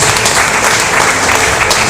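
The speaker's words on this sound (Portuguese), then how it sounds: "Vamos aplaudir a palavra, meus irmãos." Steady, loud applause from a church congregation at a family worship service fills the whole stretch as one dense, continuous wash of clapping hands.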